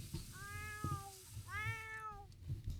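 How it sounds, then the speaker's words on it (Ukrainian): A cat in The Sims 4 gives two clear drawn-out meows, close and fairly faint, over a low background hum. "Кіт."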